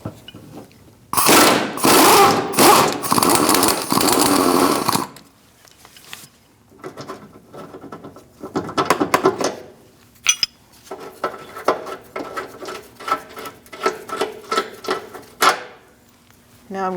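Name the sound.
19mm socket wrench removing Toyota Camry control arm bolt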